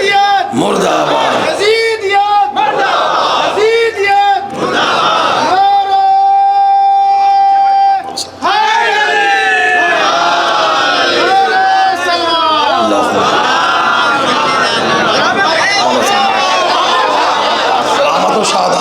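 At a religious gathering, a crowd chants slogans in loud unison responses that alternate with a leader's amplified calls, filling the space with repeated roaring shouts.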